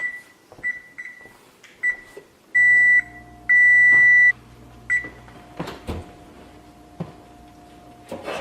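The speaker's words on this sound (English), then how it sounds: "I'm going to set the timer for a half hour" An oven timer is keyed in for half an hour: a series of short electronic beeps, a few held longer, spaced irregularly with button clicks and faint kitchen handling noises between them.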